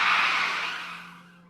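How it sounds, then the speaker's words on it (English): A car's tires squealing and skidding at night outside a house garage, a single loud screech that fades away over about a second and a half, with no voices. "I heard a squeal of tires."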